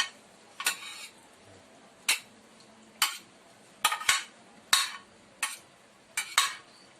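Hawaiian macaroni spaghetti being stirred in a pan with a utensil: a series of about ten sharp clinks and scrapes at uneven intervals over a quiet kitchen background, with no talking.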